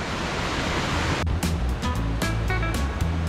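A waterfall on a forest trail in Mindo, Ecuador roars with loud, steady broadband rushing water, joined partway through by scattered splashes and clatters close at hand.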